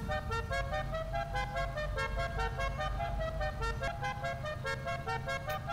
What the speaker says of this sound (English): Would you like to hear my 50 grand horn?